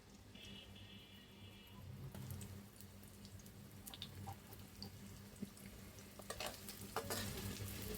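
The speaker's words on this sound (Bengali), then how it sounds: "আমি পেঁয়াজটা দুই মিনিট ভাজা করে নিব" Onions sizzle softly in a pan at the start of a hilsa bhuna khichuri, a faint steady frying hiss with a few clinks of stirring near the end, quiet and without talk.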